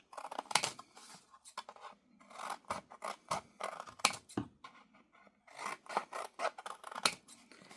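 Scissors snip through a paper shipping label along its fold, a run of close, crisp cuts in irregular bursts with short pauses between them.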